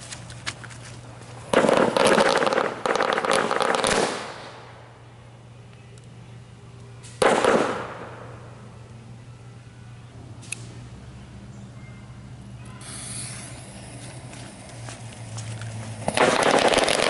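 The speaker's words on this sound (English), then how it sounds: "50 shot with a few M60s tied in together in the main compartment." A 50-shot firework cake with several M60 firecrackers tied in, going off inside the main compartment of a tactical backpack, giving loud, dense crackling bursts in a few separate flurries, heard close.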